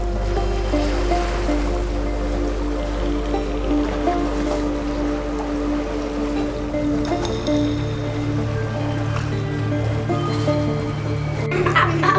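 Ocean waves wash around a trawler underway, a continuous surging swash over the low steady drone of the boat's engine, with no talking.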